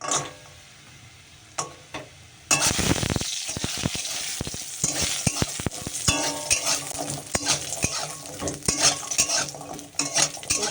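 Lentil dumplings (bori) fry in oil in a wok, a steady close sizzle broken by repeated clinks and scrapes of a utensil stirring against the metal pan.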